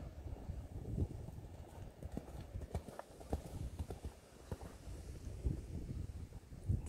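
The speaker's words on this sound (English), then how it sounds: "This is our new horse." A newly acquired horse's hooves clip-clop in a steady, uneven walking rhythm outdoors, fairly faint against light wind noise.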